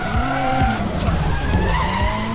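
A Nissan in the Need for Speed ProStreet racing game drifts with screeching tire skids and a roaring engine, loud and continuous with squeals rising and falling.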